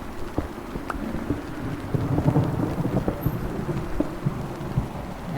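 Rain and thunder in the Minecraft video game: a steady wash of rainfall with low rumbling thunder rolling throughout, fairly loud and continuous with no voices.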